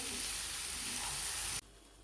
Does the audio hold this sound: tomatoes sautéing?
yes